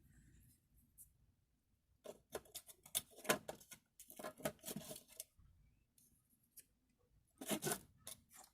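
Scissors snip through a homemade paper straw, trimming its end, in several clusters of short crisp cuts with quiet pauses between, close and fairly faint.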